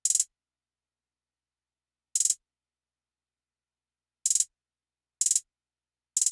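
Short bursts of a rapid hi-hat roll sound in a drum beat, each a quick cluster of bright ticks separated by silence, crisp and close.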